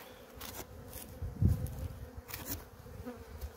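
Honeybees flying around a hive treated for varroa on a mild day, a steady close buzzing hum with individual bees passing near and away, alone without talk.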